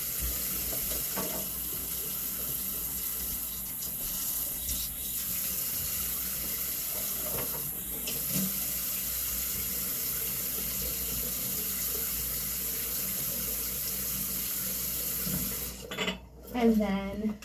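Faucet water runs steadily onto curly hair at a sink, a soft continuous hiss with faint splashing, fairly quiet, ending in a brief louder rustle and splash.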